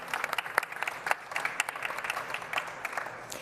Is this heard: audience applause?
yes